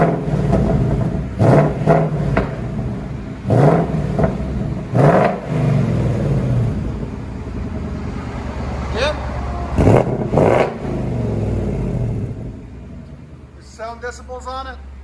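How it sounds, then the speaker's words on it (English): A 2019 Ford Mustang RTR 5.0 with its stock exhaust idles with a deep rumble and is revved in several short, loud bursts. A brief voice comes in at the end. "Here's what it sounds like before. This is stock exhaust."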